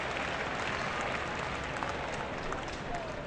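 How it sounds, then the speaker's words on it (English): Simulated stadium crowd applause from Out of the Park Baseball 18, a 1960 All-Star Game replay, a dense steady wash of clapping and cheering filling the whole moment at constant loudness, with faint voices mixed into the crowd. "National League fans applaud that effort."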